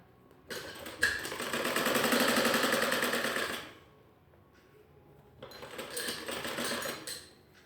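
A sewing machine stitches a Ludhiana salwar in two bursts of rapid, even needle clatter, the first about three seconds long and the second shorter after a quiet pause, with a light click between them.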